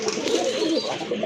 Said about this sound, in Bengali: এটা হচ্ছে এক জোড়া নান কবুতর